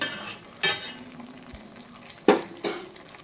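Metal spoon scraping and clinking against a cooking pot as ground coconut paste is spread over vegetable pieces, a few sharp separate strokes over a soft background.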